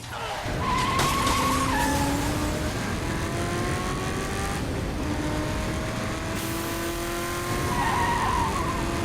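A getaway car in Saints Row The Third skids with a long, loud tire squeal over a steady engine drone, the screeching rising and falling for several seconds.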